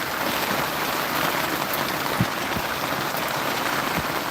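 Steady rain falls during a rainstorm on a homemade sailing canoe, a dense even patter with a few heavier drops knocking close by, continuous and without talk.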